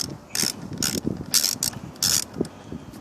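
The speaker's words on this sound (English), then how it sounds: "I'm going to use the same 10mm socket and loosen it up" A 10mm socket ratchet loosening the airbox clamp on a Lexus ES300/ES330 or Toyota Camry of 2002 to 2006, bursts of rapid clicking pawl strokes separated by short pauses, close and clear.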